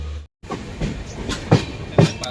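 A passenger train to Mumbai rolls along the rails near Chiplun with rhythmic clacks and thumps from the wheels, a steady rumbling ride heard from inside a crowded carriage.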